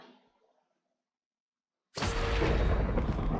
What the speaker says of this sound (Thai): นั่นแหละสายฟ้า